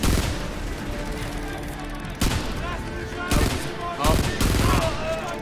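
Rifle gunfire and explosions from the video game Frontlines: Fuel of War keep up a dense, loud battle din, with several sharp bursts of shots cutting through the continuous combat noise.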